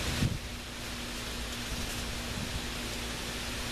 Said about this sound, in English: Starting to rain really bad.